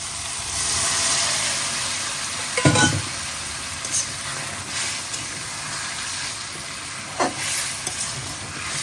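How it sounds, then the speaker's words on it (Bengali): Bottle gourd curry cooked down with a little gravy in a pan gives a steady low sizzle, broken by a couple of sharp scraping stirs near the front, with no talking. "একটু ঝোল দিয়ে কষা বারবার।"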